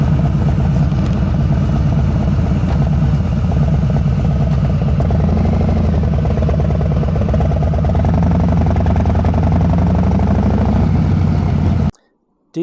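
Harley-Davidson motorcycle engine running steadily at a low, lumpy idle, loud and close throughout, stopping abruptly just before the end.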